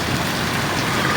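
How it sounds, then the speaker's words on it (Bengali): Heavy rain pours down on a street, a dense, loud, continuous hiss of countless drops hitting the surface with no pauses and no voices. "বৃষ্টি কোনো কমার কোনো চান্স নাই। বিশাল বৃষ্টি, বিশাল।"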